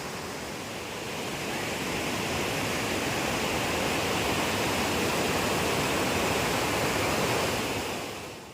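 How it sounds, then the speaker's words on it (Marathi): A powerful waterfall roars continuously, a thick, even rush of water that swells in slightly and fades at the end, with no talking. "वरती पण एक धबधबा आहे आणि आता तुम्ही बघितला असाल तो खालचा धबधबा"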